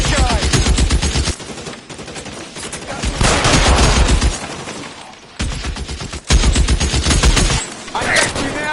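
Gunfire from the L.A. Noire video game comes in loud, dense bursts of rapid shots, broken by brief lulls, close and continuous across the scene.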